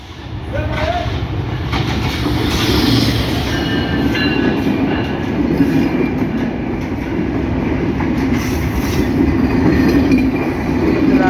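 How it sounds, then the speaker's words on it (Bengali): Chitra Express on the Dhaka–Khulna route pulls into the small Boral Bridge railway station, a steady loud rumble of wheels and carriages running continuously near by, with a faint squeal partway through. "দেখতে পাচ্ছেন চিত্রা এক্সপ্রেস, ঢাকা খুলনা রুটের।"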